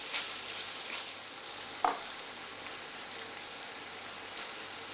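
Two tins of Branston baked beans are stirred into a beef hotpot, giving a soft, steady sizzle and bubbling hiss with a single sharp utensil knock near the start.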